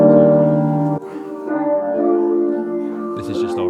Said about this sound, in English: So you can hear just the reverb